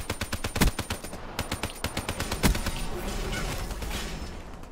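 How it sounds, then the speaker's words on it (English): Video game gunfire crackles in fast automatic bursts, rapid sharp shots in quick rhythm with a couple of louder blasts, fading into a softer rattle. "I'm shooting dead at him"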